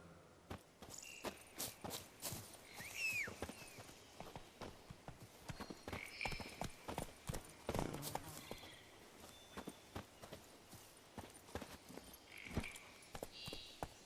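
Horse hooves clip-clop in The Witcher 3: Wild Hunt, a brisk, irregular run of close thuds over about fourteen seconds with faint ambient game sounds between the steps.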